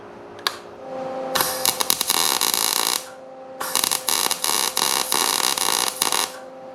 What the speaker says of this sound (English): I'm gonna try to weld that on there.